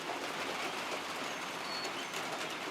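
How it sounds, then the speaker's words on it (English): Birds sing faintly on a rainy Monday morning in an Appalachian village, their thin calls threading through the steady hiss of falling rain. "the birds are singing"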